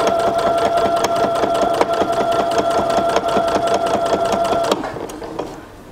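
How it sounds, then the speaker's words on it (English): A sewing machine runs steadily, stitching down a back pocket on a pair of drawstring pants. Its rapid, even mechanical whir continues close and loud, then slows and fades near the end. "I'm going to stitch it down and then turn."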